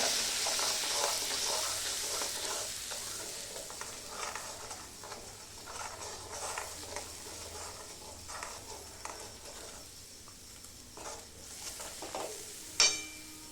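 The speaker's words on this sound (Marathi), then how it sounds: "आता मिक्सरमध्ये मसाला काढला आहे तो तेला टाकतो तो पण चांगला तेल सुटेपर्यंत चांगला फ्राय करून घेतो" Ground masala paste, freshly made in a mixer, fries in oil for an egg curry. A soft, steady sizzle runs throughout with faint stirring scrapes and a sharp clink near the end, all fairly quiet.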